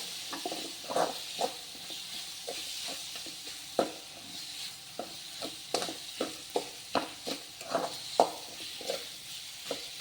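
Tomatoes sautéing in a pan for mutton bone soup, a soft steady sizzle punctuated by sharp clicks and taps of a spoon stirring against the pan, close and fairly quiet with no talk.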